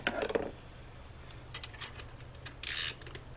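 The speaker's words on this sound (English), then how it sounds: "we just tension that up using this top bolt up here" A wrench ratchets on the fan belt tensioner bolt of a 2009 Toyota Corolla, giving faint, sparse clicks and a short grinding burst in a quiet workspace.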